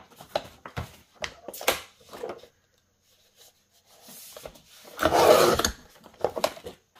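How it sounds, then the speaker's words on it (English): 12x12 scrapbook paper having its white edges trimmed, with short scraping and rubbing cuts in quick irregular strokes, a quiet gap, then a longer louder rasping pass and a few final scrapes, close and dry. "Now I'm gonna trim off the white edges of these."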